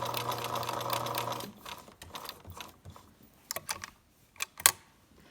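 A sewing machine stitches small quilt squares in short stop-start bursts, a steady mechanical whir giving way to separate clicks and clacks as the hand wheel is turned between stitches, close and fairly quiet.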